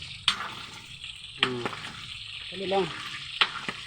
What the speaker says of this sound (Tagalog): Ganito lang mag-prito